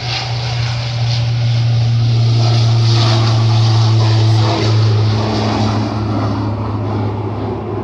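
A steady propeller-plane engine drones loudly and continuously during takeoff from runway 10R at Fort Lauderdale-Hollywood International Airport, a deep hum with a broad rushing noise over it, holding at a constant level throughout.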